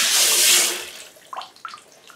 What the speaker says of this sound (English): All right, just add water.